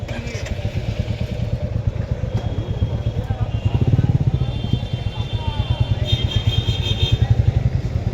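A Suzuki V-Strom 250 motorcycle with touring modifications idles and runs nearby at night in a fast, steady low putter, rising briefly midway, while someone speaks over the engine.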